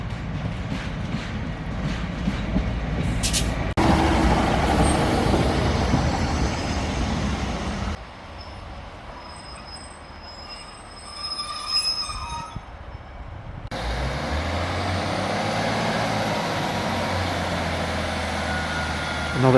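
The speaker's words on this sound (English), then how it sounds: "Train from Alleg approaching." Train arriving at Tyndrum station in the Scottish hills, a steady rumble of wheels and engine with squealing and brief high tones, fading to a quieter stretch before a low diesel drone returns.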